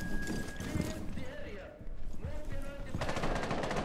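Gunfire from a weapon in the video game Rainbow Six Siege: a rapid, close burst of shots that comes in strongly near the end, over a busy background of game noise.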